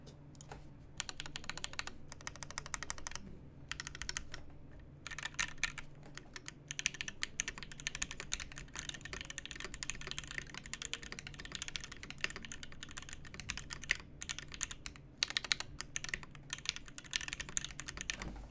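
Continuous typing on an Austin V2 prototype mechanical keyboard, a steady close stream of clacky keystrokes with short pauses, no voices.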